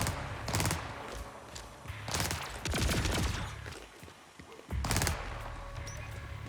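Gunfire from pre-firing in Borderlands 4, heard as several loud bursts of shots with thuds in between, spread across the clip, with no talking.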